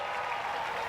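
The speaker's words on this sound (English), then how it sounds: "And what a reaction from the crowd as well." A large outdoor crowd at a Red Bull Flugtag event claps in a dense, steady burst of applause, loud and close.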